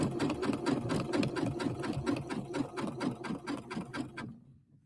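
A sewing machine stitching decorative thread and yarn onto fabric, a close, rapid, even run of mechanical stitches that winds down and stops near the end.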